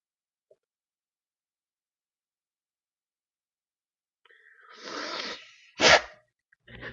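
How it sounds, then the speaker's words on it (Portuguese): A single sudden sneeze from a person at a desk, preceded by a sharp inhale and followed by near silence, close and fairly loud. "Desculpe meu espirro"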